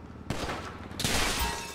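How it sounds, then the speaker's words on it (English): A rapid burst of gunfire in the GTA Online video game, a few close sharp shots cracking out within under two seconds over a background rumble. "Yo, she really was shooting at me."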